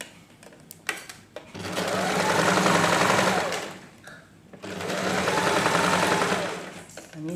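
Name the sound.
sewing machine stitching a seam allowance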